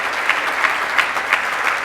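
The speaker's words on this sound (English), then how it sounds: "So let me give them a round of applause." Crowd applauding staff, physicians and nurses at a hospital groundbreaking ceremony for Valley Hospital, brisk continuous clapping from a sizeable outdoor audience with a few sharper claps standing out.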